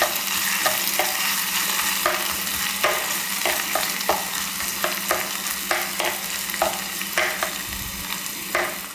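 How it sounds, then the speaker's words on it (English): Ginger fries in a pan for a teriyaki veggie burger, a bright steady sizzle broken by a regular series of close scraping strokes from stirring, with no voices. "Add my ginger. Give that a quick stir."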